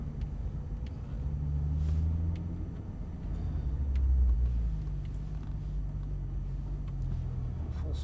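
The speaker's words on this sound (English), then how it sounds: "I'll let some of this traffic go by." Road traffic passing by a stopped Porsche Turbo S, with two cars swelling and fading past in turn over a steady low rumble, moderately near.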